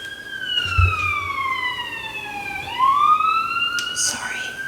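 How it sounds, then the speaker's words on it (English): Sirens wail at dawn, a long sweeping tone gliding down then rising again, steady and fairly prominent with no talking over it. "And then we hear sirens."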